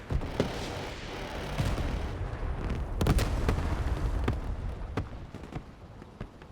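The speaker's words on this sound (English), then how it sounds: "Beautiful. Rockets going out." Rockets fired from an Mi-35 helicopter in the Broken Arrow video game, a rapid series of sharp booming launches and blasts over a dense rumbling battle din.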